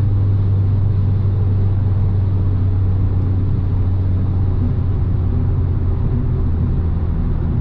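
A tuned VW Jetta TSI Stage 2 with over 300 hp accelerates hard along a highway, its engine producing a continuous loud, deep drone and rumble that holds steady throughout, with no voices.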